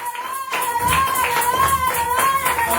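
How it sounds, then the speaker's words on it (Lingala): A church congregation claps and acclaims together, with steady rhythmic handclaps under a sustained sung or shouted voice tone, loud and close. "acclamons fortement pour la gloire de Dieu"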